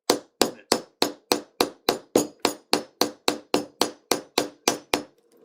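A hammer strikes a rivet setter on leather, about sixteen sharp, evenly spaced blows close up with no talking.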